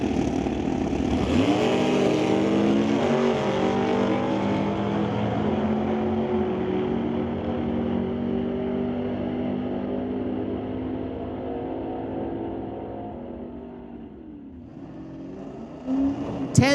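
Two drag race cars, a 1968 Dodge Dart and a 1964 Chevelle, roar loudly down the strip in an NHRA Summit ET bracket final at Mission, engines holding a steady harmonic drone that fades before a sharp revving burst at the end.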